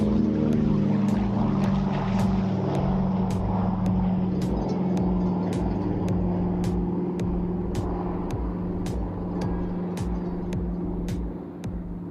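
Two Pratt & Whitney piston engines on a Douglas DC-3 (C-47 military variant) drone steadily at a flying display, a loud, continuous propeller rumble with sharp ticking clicks scattered throughout.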